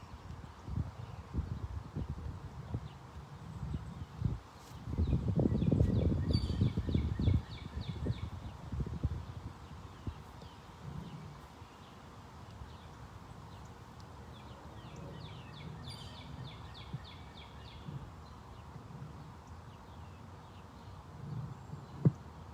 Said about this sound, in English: I hope you can hear the birds and the wind.